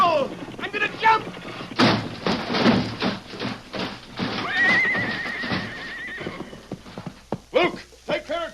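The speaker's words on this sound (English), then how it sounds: "Rein in your horses. The horses are out of control." Runaway stagecoach horses neigh and whinny loudly over rapid clip-clopping hooves and rumbling, with thumps and shouted voices mixed in and a long whinny near the middle.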